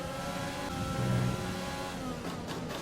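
F1 2020 Formula 1 car engine whining past in a race, a steady high revving drone with a brief swell, game race audio without speech.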